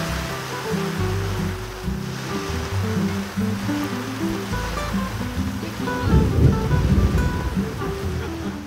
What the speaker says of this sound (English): Começou a chover, olha só como é que tá aqui o cenário ali fora.